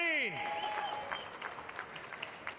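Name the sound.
applause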